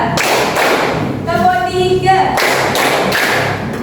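A class of participants claps in a counting game, loud bursts of group clapping on either side of a brief spoken instruction.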